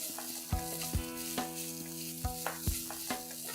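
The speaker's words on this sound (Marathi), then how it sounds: "त्यात आपण एक वाटी ओलं खोबरं किसलेलं दोन मिनटासाठी परतून घेऊया" Grated fresh coconut stir-fried with roasted sesame seeds sizzles steadily in a pan, punctuated by repeated clinks and scrapes of a spoon against the metal.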